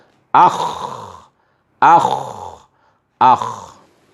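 A voice imitates a guttural, snore-like throat rasp three times, as in Arabic letter pronunciation practice, each rough burst lasting about a second with short silent pauses between.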